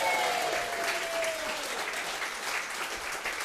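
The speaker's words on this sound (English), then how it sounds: "if we could really show a round of applause for Ray, Jackie and Ashley Robinson" An audience at a live mediumship demonstration in Bournemouth applauds, a dense, even wash of clapping that carries on for the whole stretch without a break.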